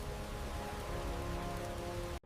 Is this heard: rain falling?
yes